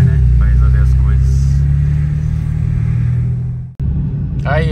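A BMW M3 rumbles steadily at low speed as it arrives at a wheel shop, its engine note loud and close throughout with a brief cutout near the end.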